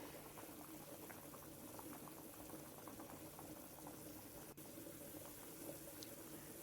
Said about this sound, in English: Let the water boil.